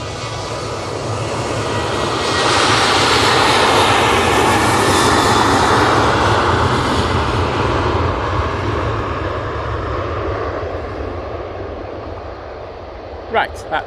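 A jet airliner departs from Manchester Airport, its engine roar swelling from a low rumble to a loud peak around the middle and then slowly fading into the distance, with a couple of brief knocks near the end.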